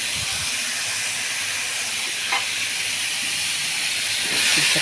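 Malabar spinach drops into a hot pan of oil already holding potato, eggplant, sweet potato and pumpkin, giving a steady, close, loud sizzling hiss that runs throughout.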